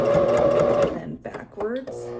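A sewing machine stitches cotton from an old bed sheet being turned into a skirt, running in a loud steady whir that stops, followed by a few short mechanical clicks and a person talking.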